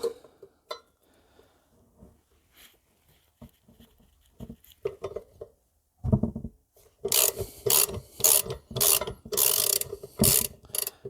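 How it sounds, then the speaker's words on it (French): A ratchet with a 10 mm socket loosens the sprocket bolts on an MBK X-Limit enduro motorbike: scattered faint clicks and handling noises first, then loud bursts of rapid ratcheting clicks close by. "Donc tu le prépares cliquet, douille de 10 ou alors clé de 10"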